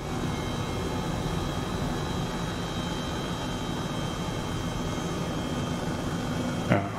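A helicopter engine in Microsoft Flight Simulator 2020, flying toward Iceland's Fagradalsfjall volcano, drones as a steady broadband whine with a constant tonal hum, unbroken and even throughout, with one brief bump near the end.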